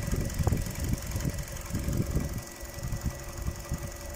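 A Nissan Qashqai 1.6 engine idles steadily up close, a low rumbling run with a faint irregular knock-like pulse and no talking over it.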